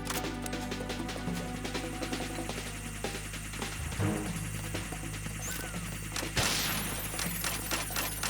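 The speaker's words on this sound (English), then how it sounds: "I like the sound the chaff grenades make." A chaff grenade bursting in Metal Gear Solid 2, a throbbing electronic hum and crackle under steady game music, with a sharp thud and burst of static partway through.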